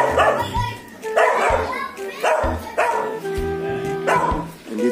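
A dog barks repeatedly at a house with a garden of vegetables and calamansi trees, loud, close woofs arriving in bursts roughly every second, mixed with yips.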